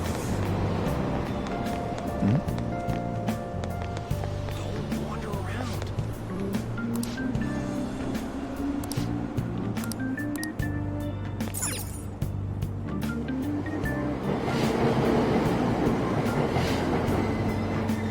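A subway train in the video game Persona 5 Royal pulls away from the platform with a steady low rumble and rhythmic clatter that continues throughout, loud and close.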